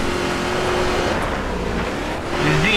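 Off-road vehicle engine in the video game Baja: Edge of Control, racing on slippery stage corners, droning steadily and loud up close with a slight wavering, then rising in pitch near the end.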